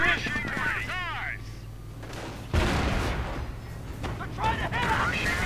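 Bursts of tank cannon and anti-tank gun fire ring out in a WWII strategy game battle, with a sharp blast midway and more shots after, while someone commentates over the action.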